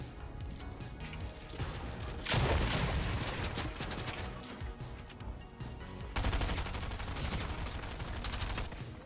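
SMG fire in a video game, sustained rapid bursts with two louder volleys, dense and continuous, with no talking.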